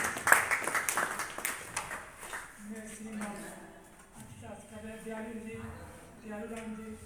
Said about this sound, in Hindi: जोरदार तालियां स्वागत है